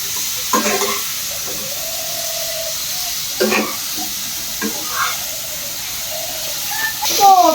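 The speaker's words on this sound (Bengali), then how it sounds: "এবার তেলের ভিতর ফুলকপি ভাজবো।" Cauliflower frying in hot oil in a kitchen pan gives a steady sizzling hiss, with a few clattering stirring knocks and a voice speaking now and then.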